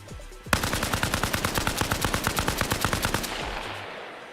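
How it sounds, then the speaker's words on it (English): Rapid automatic fire from an AK rifle in the military shooter Arma Reforger: a loud, close burst of about twenty evenly spaced shots over three seconds, then a fading echo tail. "The AK is very loud."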